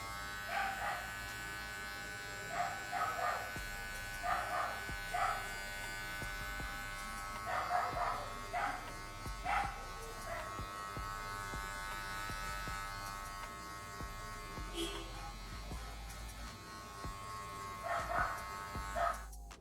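Electric hair clippers fitted with a guard comb run with a constant close buzz while cutting a short military-style men's haircut, with pulsing tonal surges as the blade passes through hair.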